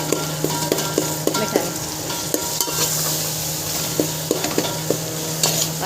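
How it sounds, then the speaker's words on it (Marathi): Tomatoes with salt and chicken masala frying in a pan for biryani, a steady sizzle with frequent sharp stirring clinks of a spoon against the pan, close and alone. "आता टोमॅटो मीठ टाकल्यामुळे पटकन शिजतंय टोमॅटो"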